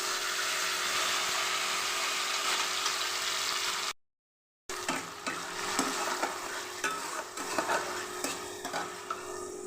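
Ground tomato frying in hot spiced oil with a bay leaf: a loud, steady sizzle, a brief silent break, then renewed sizzling with repeated stirring scrapes close by.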